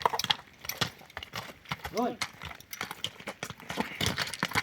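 Hooves of a young horse clip-clop in an uneven rhythm of close, sharp knocks, mixed with people talking nearby and a brief higher whinny-like sound partway through.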